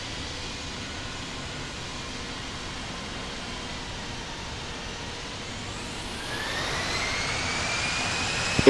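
A China Eastern heavy jet airliner taxiing at Rome in the Infinite Flight simulator: a steady, close whine and roar from its engines that swells louder and brighter near the end.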